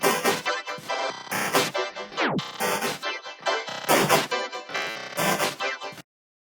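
Choppy electronic glitch sound from a Glitch 2 plugin preset, with rapid stuttering bursts cut by abrupt gaps and a quick pitch-swept dive near the middle. Loud and dry, no voices, stopping sharply at the end.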